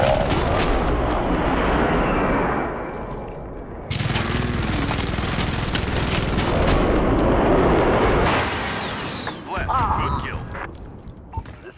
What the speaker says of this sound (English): Precision airstrike, ready.